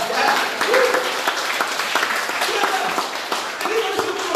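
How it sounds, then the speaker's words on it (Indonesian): Applause from a church congregation at a Sunday worship service, filling the space with steady dense clapping while voices and a faint musical tone carry on underneath. "Berikan tepuk tangan bagi Tuhan kita"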